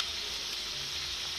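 Breadfruit fries sizzle in hot oil, a close, dense and steady frying hiss that stays even throughout with no voices.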